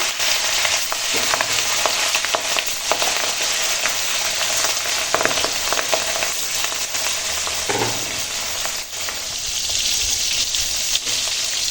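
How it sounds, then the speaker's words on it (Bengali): Catla fish pieces coated in salt and turmeric fry in hot oil, giving a loud, continuous sizzle with scattered pops and crackles and a few stirring knocks throughout. "এই মাছগুলো ভেজে নেবো। এটা কাতলা মাছ, নুন হলুদ মাখিয়ে নিয়েছি।"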